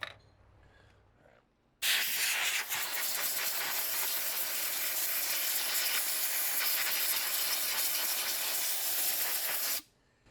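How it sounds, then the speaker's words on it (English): An air compressor runs close by, a loud, steady hissing roar lasting about eight seconds that stops abruptly, with quiet before and after and no speech. "I didn't turn the air compressor on, so I'm going to do that"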